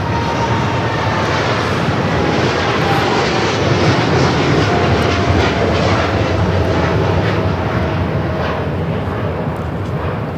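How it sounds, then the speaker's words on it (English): A Nippon Cargo Airlines Boeing 747-8 freighter departs LAX for Tokyo Narita, its engines a loud, sustained broadband roar that holds steady for the whole stretch with no voices over it. "That is Nippon Cargo Airlines 101 taking off to Tokyo Narita on the 747-8 freighter"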